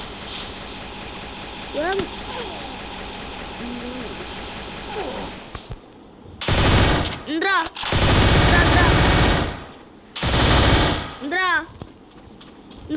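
Rapid bursts of automatic gunfire from the video game Free Fire, several loud volleys with short gaps, mixed with game sound effects and music.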